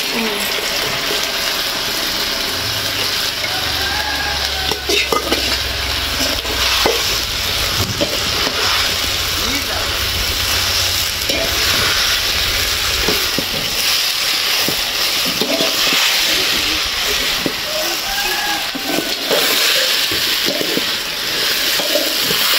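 Gobi manchurian is tossed and sautéed in sauce over a high flame, giving a continuous loud sizzle and hiss with scraping stir strokes and occasional faint talk.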